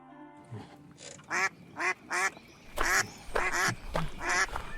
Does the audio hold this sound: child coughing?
no